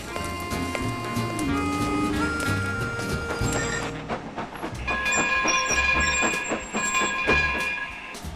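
Railroad train rolling along the tracks, a rhythmic clatter of wheels with sustained metallic squeals and tonal ringing laid over it, moderately loud and continuous throughout.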